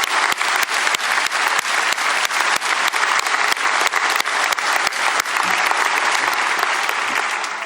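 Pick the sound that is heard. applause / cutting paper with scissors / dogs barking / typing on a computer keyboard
applause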